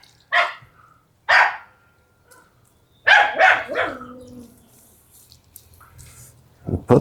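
Puppies barking in a home kitchen during skillet cooking, a few short separate yaps near the start and a busier cluster of barks midway, fairly close, with quiet gaps between.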